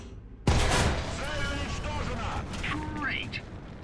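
Tank cannon fire in the War Thunder video game: one sudden loud blast that leaves a long rumbling tail, with a voice talking over the aftermath.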